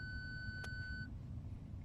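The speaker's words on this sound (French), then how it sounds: "lorsque je passe ma marche arrière, j'ai ce bip sonore" A Volkswagen Golf 6 parking sensor, with a faulty PDC module, sounds when reverse gear is engaged: a steady high electronic tone holds for about a second, then stops, over a low idling rumble with no talking.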